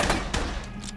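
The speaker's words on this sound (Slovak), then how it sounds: "Pištolka pomaly strieľa" Pistol gunfire in the video game F.E.A.R. 2, a few quick loud cracks with booming low thuds spaced over about a second, close and without speech.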